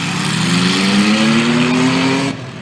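A racing truck engine at Tail Creek Raceway roars loud and close in a steady, rising drone for over two seconds, then drops off sharply near the end.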